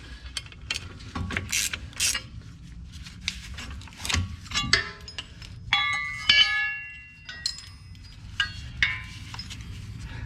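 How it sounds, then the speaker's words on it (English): Ratcheting and metallic tool clicks while a bolt is removed from the suspension bracket of a Jeep Renegade during a lift kit install, with bursts of rapid ratchet action and a ringing metal clink. "you're going to remove your bolt at the top so you can install the new bracket"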